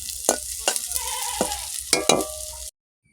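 Bora fritters deep-fry in oil with a close, steady sizzle punctuated by several sharp scraping strokes of a spoon, ending abruptly in silence.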